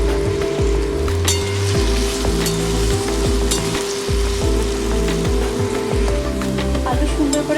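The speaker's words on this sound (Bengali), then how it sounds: "প্রথমে আমি আলুগুলোকে ভেজে নেব।" Potatoes frying in oil in a Bengali home kitchen, a steady dense sizzle running throughout with occasional stirring clatter, close and fairly loud.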